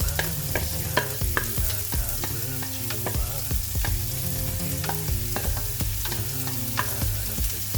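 Onion and garlic fry in hot oil, a close, continuous sizzle broken by repeated scraping and tapping of a spoon stirring the pan, with no voices.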